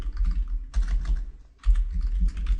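Fast tapping on a computer keyboard, two quick clusters of keystrokes separated by a brief pause, close and clear with no voices.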